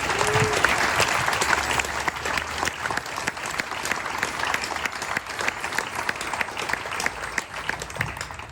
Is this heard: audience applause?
yes